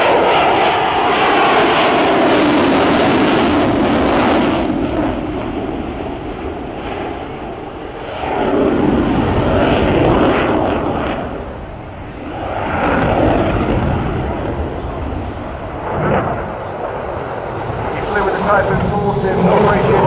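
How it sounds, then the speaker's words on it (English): A Eurofighter Typhoon jet makes a slow pass at an air show, its engine roar loud and broad, swelling and easing in waves over twenty seconds, with a commentator's voice partly audible underneath. "the aircraft is coming through for a slow pass"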